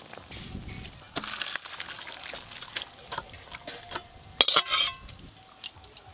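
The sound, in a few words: boiled banana flower being poured out of a pot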